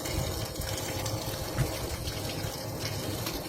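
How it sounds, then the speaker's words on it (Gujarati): A motor pump lifts cold water into a new water trough, making a steady, continuous gushing rush with low rumbling underneath. "પાણી ચાલુ છે, તમે જોઈ શકો છો, મોટર પાણી ઉપાડે છે।"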